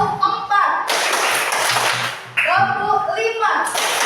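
A classroom of children claps in unison during a concentration clapping game, two dense bursts of group clapping between stretches of a teacher talking.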